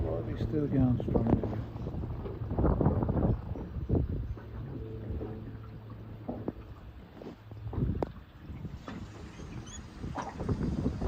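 Strong headwind buffeting a fishing boat out on open water, a steady rushing roar with gusty swells throughout while someone talks over it.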